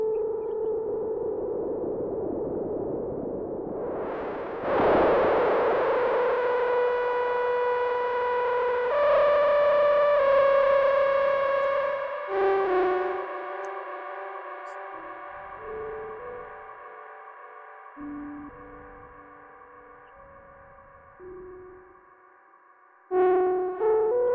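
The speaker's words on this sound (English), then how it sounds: "patch the pink noise into the pitch control so I can get this warbly effect" Pink noise patched into a modular synth's pitch control gives a warbly, distorted tone that sweeps and steps through shifting pitches, loud and steady with no talking.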